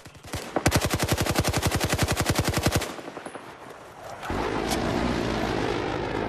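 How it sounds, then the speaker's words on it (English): Suppressing fire in Battlefield: a rapid, sustained machine-gun burst of about two seconds with evenly spaced loud shots, then quieter scattered battle noise and a steady engine-like rumble. "Suppressing fire!"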